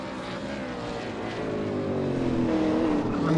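A V8 Supercar brakes into the first corner at Interlagos, its engine note dropping and burbling in a steady, loud roar of harmonics that falls in pitch as the car slows, with no talk over it.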